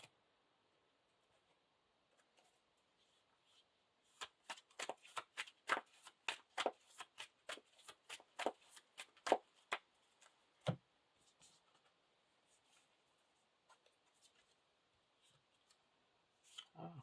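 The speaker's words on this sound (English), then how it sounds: "I get to shuffle the top card of my discard pile back into my deck." Playing cards are shuffled in a quick riffle, a rapid flurry of crisp flicks for several seconds, followed by a few scattered taps and quiet handling.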